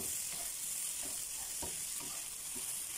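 Leeks, sweet peppers and chili peppers stir-fry in a fairly dry pan with little oil, giving a steady close sizzle broken by soft scraping strokes of stirring roughly every half second.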